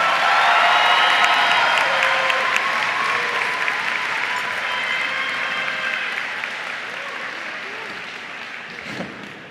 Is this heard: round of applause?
yes